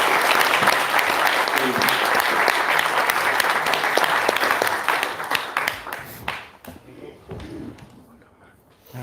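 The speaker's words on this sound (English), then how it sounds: "Give them a big round of applause" An audience at a patient-advocacy conference applauds panelists coming up on stage, a loud sustained round of clapping that thins into scattered claps after about five seconds, with a voice speaking at the end.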